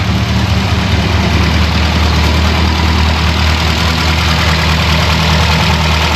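A Morris Minor engine idling close and loud after starting, a continuous rough mechanical chatter with a steady low throb and no voices.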